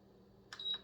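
A slow cooker switched to its saute setting answers with a brief electronic beep, a faint double chirp in an otherwise quiet kitchen.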